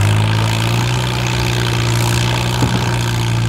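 A loud, heavy truck engine powering a long-tail boat idles and drones with a steady low rumble, close by.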